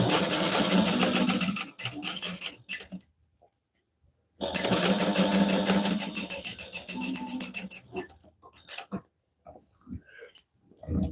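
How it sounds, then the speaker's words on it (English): A sewing machine top-stitches the connectors onto a Harmonica Hobo bag in bursts of steady motor whir separated by short pauses, close and fairly loud with no talk over it. "now top stitching and sewing on the connectors on the second side is a little bit tricky."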